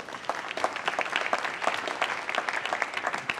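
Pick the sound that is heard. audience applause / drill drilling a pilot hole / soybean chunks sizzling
audience applause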